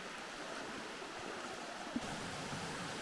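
A creek flowing near a campsite at a crossing, a steady soft rushing wash of water, faint and distant-sounding, continuing without interruption and with no voices.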